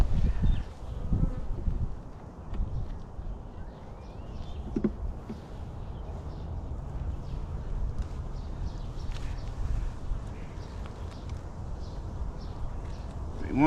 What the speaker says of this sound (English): I don't know if you can see the bees here.